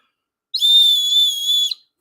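A cyber whistle blown once in a single steady, shrill tone lasting a little over a second, loud and close, with no talking.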